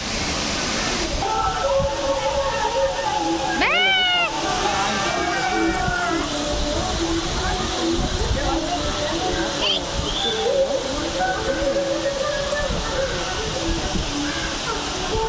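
The waterfall at Thirparappu roars as a loud, constant rush of falling water, with voices talking over it and a brief whistle-like tone partway through.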